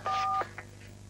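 A steady two-tone telephone keypad beep sounds for about a third of a second, followed by two short, fainter tone blips, as a call-in phone call ends during a live gaming segment. No one speaks.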